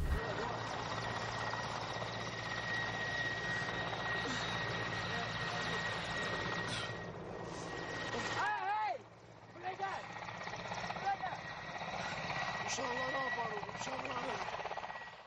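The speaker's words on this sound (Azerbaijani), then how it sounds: "Helikopterin mühərrikinin küyü" Helicopter engine noise, a steady loud mechanical drone with a sustained tonal whine that holds throughout, briefly dipping midway, with a voice speaking over part of it.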